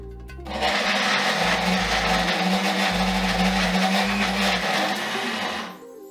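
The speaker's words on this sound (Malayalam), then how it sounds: "ജാറൊന്ന് ക്ലോസ് ചെയ്തിട്ട് ഇത് നന്നായിട്ട് അരച്ചെടുക്കണം കേട്ടോ." A mixer grinder whirs steadily at close range, finely grinding pieces of mango seed in a closed jar, a dense continuous motor roar with slight fluctuations that runs for about five seconds before winding down.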